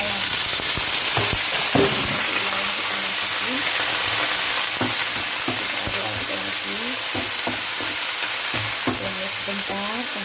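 Homemade spicy chili sauce sizzles and bubbles steadily in a pan while a spoon stirs through the thickening liquid, making repeated scraping clicks over the constant frying hiss.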